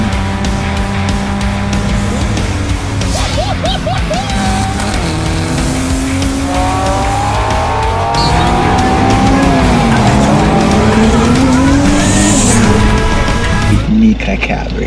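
A Nissan Micra Cabrio accelerates hard at the Nürburgring, its engine note rising and falling through gear changes with tyre squeal, loud and close, while people talk over it.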